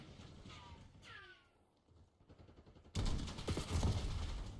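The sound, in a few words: gunfire in a shooter video game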